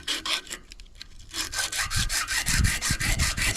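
80-grit sandpaper on a wood block scrapes briskly over a steel knife blade made from an old file, in quick, regular back-and-forth strokes that grow steadier and louder.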